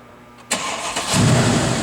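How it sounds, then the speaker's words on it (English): A 2012 Mercedes-Benz CLS63 AMG fires up nearby: a sharp starter catch, then the engine roars to life and settles into a loud, deep idle. "You might have to turn the engine on"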